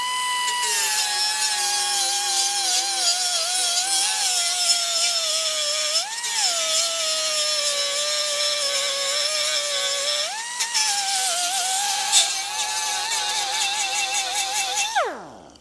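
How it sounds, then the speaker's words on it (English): Continuous high-pitched whine of a power sander with 36-grit abrasive grinding a metal front suspension part from a C4 Corvette, the pitch dipping briefly under load several times and cutting off abruptly at the end. "gonna hit this with a 36 grit first"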